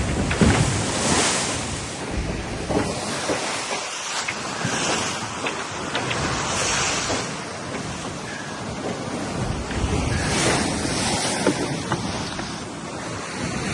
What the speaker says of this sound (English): Pretty big waves here.